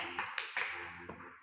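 Schoolchildren in a combined class clap for their groups, a few sparse, uneven claps and taps in a reverberant room.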